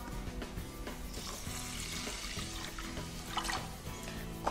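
Water pours from a tap into a thick-bottomed pot over dry quinoa, a steady moderate rush and trickle that continues throughout without speech.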